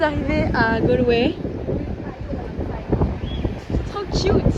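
Wind buffets the microphone outdoors in Galway, Ireland, a rumbling gusty roar that rises and falls beneath women chatting in French.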